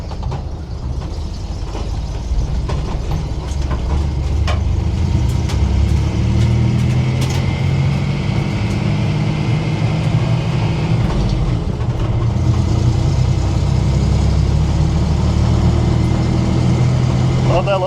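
A 1968 Dodge Dart's six-cylinder engine with a sticking throttle runs steadily and loud from close inside the car, with a low continuous drone throughout and no clear rev peaks.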